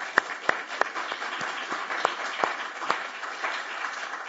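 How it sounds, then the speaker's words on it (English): Audience applause following a panel presentation at a morning event on police corruption, with scattered individual claps forming a steady, moderately near round of clapping with no voices. "I'd like to ask for a round of applause."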